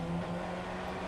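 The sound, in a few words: Formula Ford 1600 race car engine revving in iRacing video game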